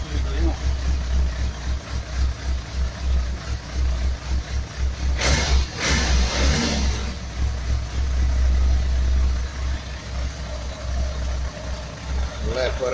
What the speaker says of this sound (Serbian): Startovali smo motor.